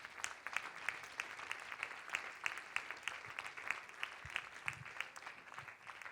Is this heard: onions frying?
no